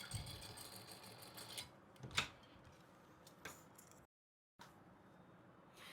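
A domestic sewing machine stitching blouse piping together with its lining, giving short bursts of quiet mechanical whirring and ticking that stop briefly, then resume softly, with no one talking.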